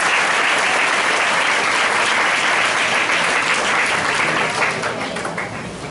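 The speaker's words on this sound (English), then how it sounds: "We all, please clap hands." Audience of school students at DAV School clapping hands together, a dense, loud burst of applause that holds steady and begins to taper off toward the end.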